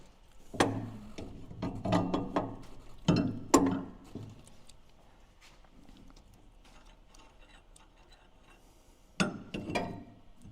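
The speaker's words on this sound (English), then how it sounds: "Use a ratchet strap to pull the axle back and get the alignment pin to drop into the spacer." A ratchet strap is cranked to pull back the axle of a Suzuki DB52 or DA63 during a 4-inch lift install, giving bursts of close clicking ratchet strokes with a long quiet gap and then one more burst.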